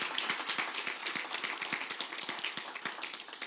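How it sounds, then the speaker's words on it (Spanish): A church congregation applauds during a Spanish-language service, a quiet, even wash of many hands clapping with some sharper nearby claps, heard alone without talk. "dale un aplauso al Rey de Gloria"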